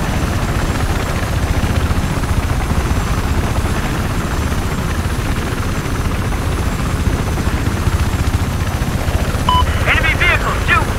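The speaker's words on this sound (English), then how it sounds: "Their scout chopper to spawn." A scout helicopter in the Battlefield 4 video game, heard as a loud, continuous rotor thrum and engine whine with game effects and voices mixed in, with brief electronic chirps near the end.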